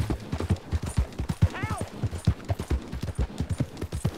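Horse hooves clop in a steady galloping rhythm while riding in Red Dead Redemption 2, close and continuous, with a brief whinny-like call partway and someone talking over the hoofbeats.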